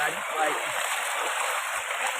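A strong floodwater current from the Rapti River rushes through a village, a steady loud broadband roar of flowing water that fills the whole moment without pause.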